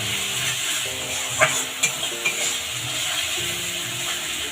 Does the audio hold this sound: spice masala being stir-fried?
yes